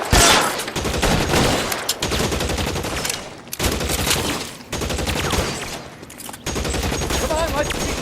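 Sustained gunfire in an L.A. Noire shootout, dense loud bursts and rapid repeated shots filling the whole stretch with brief gaps, with shouted voices mixed in.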